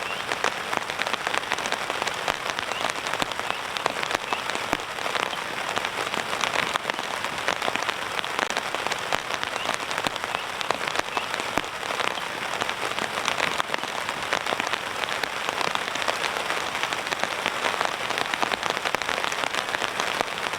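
Steady rain falls on a campsite, a dense, even hiss of drops pattering on surfaces that continues unbroken for about twenty seconds with no voices.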